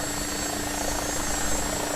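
An AgustaWestland AW109SP helicopter on a rolling takeoff, a steady loud droning rotor and turbine noise with a constant whine, unbroken and without talk.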